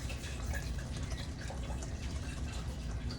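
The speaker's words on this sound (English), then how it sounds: "this is not done until you add a little bit of water to the jar" Water runs steadily into a jar of Alfredo sauce, a continuous close filling wash that stays even throughout with no talk over it.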